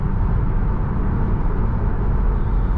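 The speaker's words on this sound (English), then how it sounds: "A little loud on the highway, but kind of a loud car in general" A 2019 Tesla Model 3 Performance cruises on a highway, filling the cabin with a steady broadband roar of road and wind noise, loud and unbroken, with no talk.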